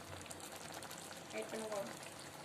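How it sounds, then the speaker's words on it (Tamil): A thick prawn gravy bubbles and simmers steadily in a pan while a person talks over it. "இறால் கிரேவி சும்மா கொதிக்குது அங்கனங்கன பாருங்க"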